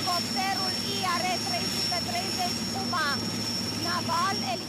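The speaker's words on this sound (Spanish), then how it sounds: "El helicóptero IAR-330 Puma Naval está partiendo ahora para una misión de reconocimiento marítimo." An IAR-330 Puma naval helicopter departing on a maritime reconnaissance mission over the Black Sea: a steady, loud turbine whine and droning rotor hum fill the whole stretch, with a voice talking over it.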